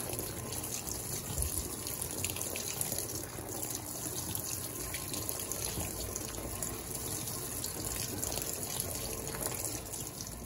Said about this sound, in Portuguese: entrada de água, enchimento duplo para o segundo encharco